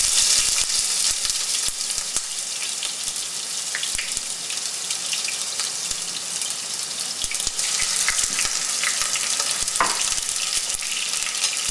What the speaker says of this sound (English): I've got some oil heating here, and we're going to start with caramelizing some onions